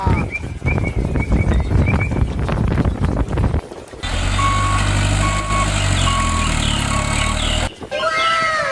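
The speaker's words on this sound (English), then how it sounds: "Dump truck." A large sand dump truck reverses with a steady run of loud electronic beeps over a low rumbling engine, the warning tone repeating evenly for several seconds after a burst of busier noise.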